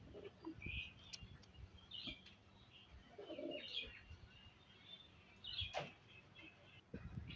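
Pair of Pakistani highflyer pigeons cooing in a loft, soft low coos in short bursts with faint chirps and rustling, fairly quiet and close.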